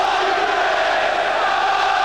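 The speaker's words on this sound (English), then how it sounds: "But noisy Arsenal crowd as Merson fires in the corner" A noisy home crowd at an Arsenal football match roars in a continuous, dense wall of sound as a corner kick is taken.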